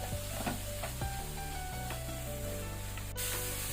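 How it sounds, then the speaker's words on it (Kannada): Tomatoes frying in a pan over a medium-high flame for a butter mushroom masala, a close, steady sizzle with occasional stir scrapes, set against a low, sustained hum that persists throughout. "ಈಗ ಮೀಡಿಯಂ ಟು ಹೈ ಫ್ಲೇಮಲ್ಲಿ ಟೊಮ್ಯಾಟೊನ ಒಳ್ಳೆ ರೀತಿ ಫ್ರೈ ಮಾಡ್ಕೊಳ್ಬೇಕು"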